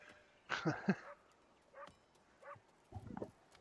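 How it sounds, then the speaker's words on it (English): A dog barks in the video game The Great Whale Road, in a few short, separate bursts, the first cluster loudest, followed by quieter yips at uneven intervals over a quiet background. "I'm hearing a dog barking, and I'm wondering if it's game sound or real life."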